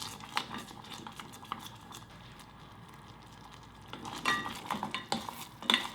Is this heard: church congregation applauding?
no